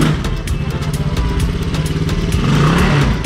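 Mercedes S500 with new aftermarket exhaust mufflers, engine running loud and steady with a deep throbbing rumble and rhythmic pulsing, close up throughout without clear speech.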